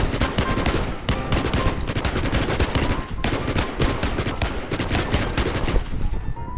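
Rapid automatic gunfire from a shooter video game, loud, close and sustained bursts nearly the whole time with only brief gaps between strings of shots.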